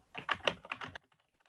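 Quick burst of computer keyboard typing during a live beginner Java class, a rapid run of close, crisp key clicks for about a second, then near silence.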